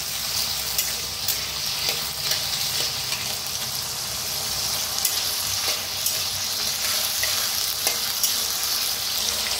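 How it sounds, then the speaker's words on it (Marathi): Potato pieces fry in hot oil in a kadhai on a gas stove, a steady dense sizzle and crackle with small pops and occasional stirring taps, close and even throughout, no voices. "आता बटाट्याला छान असं भाजून घ्यायचं तेलात"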